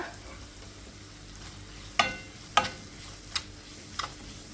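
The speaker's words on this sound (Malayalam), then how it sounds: "സവാള നല്ല ഗോൾഡൻ കളറാവുന്നത് വരെ വഴറ്റിയെടുക്കണം സവാള വാടി തുടങ്ങിയിട്ടുണ്ട് അതിലേക്ക് ഒരു ജിഞ്ചർ ഗാർലിക് പേസ്റ്റ് ഇട്ട് കൊടുക്കുക" Onions sautéing in a pan with ginger garlic paste just added, a low steady sizzle with several sharp stirring scrapes or clinks of a spoon against the pan.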